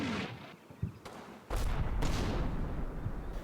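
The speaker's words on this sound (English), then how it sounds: "As the British armor advances, they suppress my outpost positions with cannon fire" British tank cannon fire in the wargame Combat Mission Normandy: a few heavy booming blasts follow one another, with dense rumble and debris between them and no talk.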